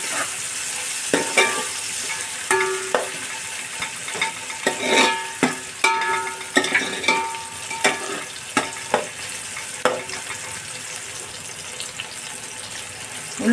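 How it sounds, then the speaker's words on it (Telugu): Onions frying in oil for fish biryani, cooked until deep red-brown: a steady close sizzle broken by frequent scraping and clinking stirs from a spoon in the pan, with no voices. "ఉల్లిపాయ బాగా వేగాల నూనెలోని."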